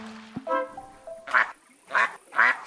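Ducks in the cozy building game Tiny Glade give a few separate quacks, with a short wobbling call first and then three louder, evenly spaced nasal quacks up close.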